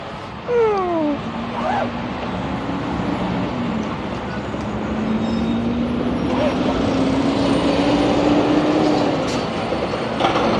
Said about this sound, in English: That's an Amazon truck and it sounds really sad.